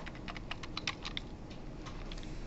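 Rapid, uneven keystrokes clatter on a computer keyboard during a programming lecture, with a short burst of clustered taps followed by sparser clicks, close and clear against a quiet room hiss.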